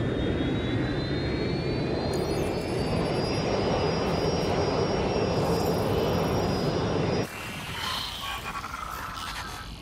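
Rerouted airliner in Watch Dogs Legion roaring past with a steady loud jet engine drone and a rising whine, then cutting abruptly to a quieter rumble near the end.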